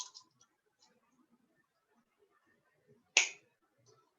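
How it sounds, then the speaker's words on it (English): Jewelry wire snipped with wire cutters: one sharp, close snap stands out against near silence, with faint clicks of handling before it. "So I'm going to give myself 6 inches of wire. Cut that off."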